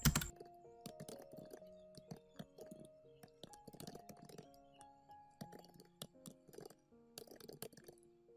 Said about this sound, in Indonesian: lalu kita ketikkan skripnya.